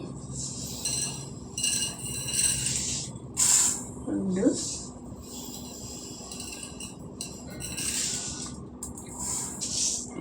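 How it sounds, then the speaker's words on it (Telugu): Mustard seeds hit a hot kadai and hiss in bursts of bright sizzling, with a brief metallic clink of a spoon partway through. A voice talks over the cooking. "ఇప్పుడు మనం ఇందులో ఆవాలు వేసుకుందాం"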